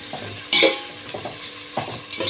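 Onions being sautéed in a pan for mushroom biryani, with several loud, quick spatula scrapes and stirs over a soft sizzle, close up.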